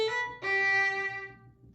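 Violin plays the ending of measure 15 of the Gavotte from Mignon: a held bowed note, then a louder, brighter sustained note that fades away, solo and close.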